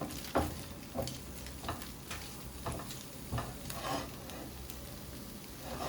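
Chicken, broccoli, peppers and onions sizzle in a pan while being stirred, with a steady frying hiss broken by repeated scraping stirs at a close, moderate level.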